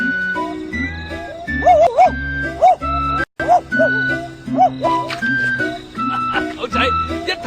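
A person imitates a dog barking as part of a guessing game, giving repeated yapping woof-like calls in a rhythmic series, loud and close, mixed with talking.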